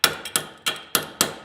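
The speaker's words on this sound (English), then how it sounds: "you can take a brass hammer" A brass hammer taps a wrench to jar it, giving five sharp metallic strikes in steady rhythm, each ringing briefly before the next blow; close, loud and with no voices.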